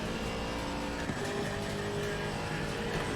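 Race car in Assetto Corsa Competizione driving on dirt, a dense, steady engine roar with rattling grit and debris pattering against the undercarriage, loud and continuous throughout with no talking.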